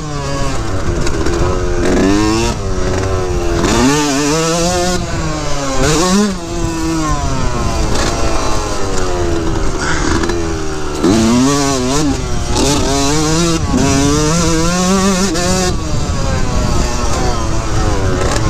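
A Yamaha YZ125 two-stroke dirt bike rides a track, its engine screaming loud and close, rising and falling in pitch through repeated revs and gear shifts for the whole stretch.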